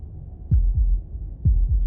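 Heartbeat in the Slay the Princess video game: two deep lub-dub double thumps about a second apart, close and prominent, with a low hum beneath.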